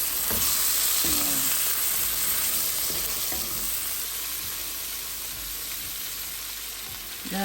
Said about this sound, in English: Fry the onion till it gets a bit soft before I add in the beans and the sauce.